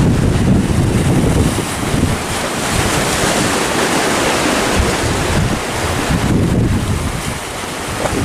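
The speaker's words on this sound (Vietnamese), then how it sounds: "Sóng biển đang tăng nhìn rất là đẹp luôn." Large sea waves surge at the mouth of a fishing harbour at Lagi in strong wind. The roar of surf and wind buffeting is loud, continuous and broadband, and no voices are heard.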